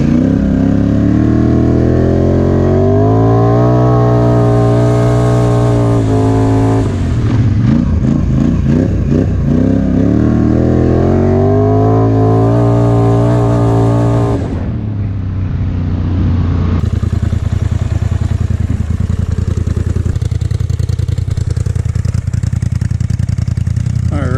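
A Polaris Scrambler XP 1000 S side-by-side engine roars and revs, rising in pitch as it accelerates past, then settles into a lower rumbling idle.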